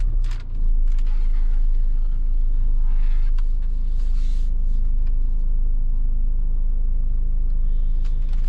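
A 2014 Hyundai i40 diesel engine runs at a steady idle, a close, continuous low rumble with faint clicks and rattles on top, holding even for the whole stretch.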